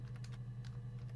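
Quiet computer keyboard typing from the video game Her Story, a few soft irregular keystrokes over a steady low hum, no voices.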